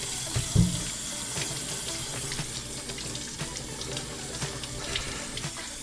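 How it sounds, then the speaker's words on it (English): Potatoes scrubbed under a running kitchen sink tap: a steady rush of water with faint rubbing and small knocks against the basin, close and continuous, with no talking. "Scrubbing my potatoes."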